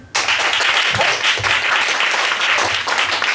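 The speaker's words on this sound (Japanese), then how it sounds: "アイドル菩薩が面白いと思った方拍手。" A live comedy club crowd claps to vote for an improv act, applause starting abruptly and staying loud and dense, with a few individual claps standing out.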